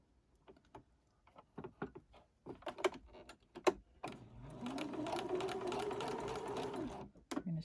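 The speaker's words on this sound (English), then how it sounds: "I'm going to set my machine to sew on the left side of the presser foot" A sewing machine runs a seam, starting with scattered clicks and short taps before settling into a steady, continuous whirring hum near the end.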